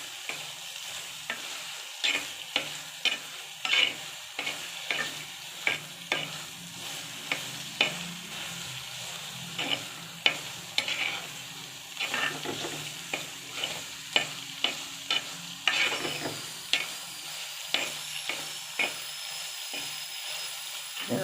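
Meal maker soya chunks roast in a hot pan while a spoon stirs them, giving a steady sizzle and frying hiss with repeated scraping clatters throughout, close and continuous, with no talking.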